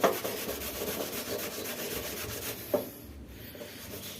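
Dried cooking grease being scrubbed off a gas stove with a scrubber: steady close rasping and rubbing strokes that run continuously, briefly ease off, then resume.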